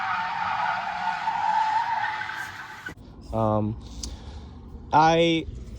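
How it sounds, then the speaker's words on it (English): A Tesla on worn Pirelli tires doing donuts, a long loud tire skid followed by two short, higher squeals after a pause, close and alone without talk. "I also did donuts, a couple days ago, so I'll put that clip in right now"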